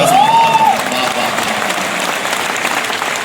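Audience applause at a Kumar Vishwas poetry recital in Raipur, a dense wash of clapping from a large crowd, loud and sustained, with a brief whistle-like tone near the start.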